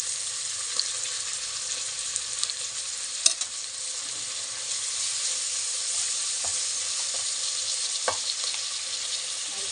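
Beans, knol-khol and cauliflower fry with ginger garlic paste in a pan, a steady close sizzle broken by occasional sharp clicks and scrapes of stirring, with no talk.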